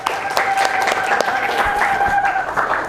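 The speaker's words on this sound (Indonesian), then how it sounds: "Tepuk tangan buat kita semua yuk." A school class applauding together in a classroom, scattered individual hand claps forming a lively, uneven round at close range, with a faint tonal hum underneath.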